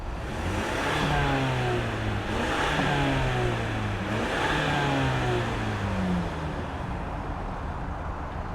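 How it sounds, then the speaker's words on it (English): A 2024 Ford Ranger XLT FX4 with an EcoBoost engine revs up and down several times in succession, each rise and fall clear and close, with a steady engine drone between. "let's fire up this Ranger and see it roll."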